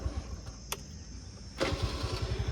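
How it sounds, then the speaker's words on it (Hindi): A starter motor whirs briefly, then a TVS Jupiter scooter engine with about 25,000 km on it catches and settles into a steady, close putter at idle. "हल्का सेल्फ मारा स्कूटी स्टार्ट हो जाती है।"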